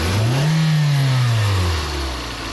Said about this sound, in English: Okay, go ahead and rev it.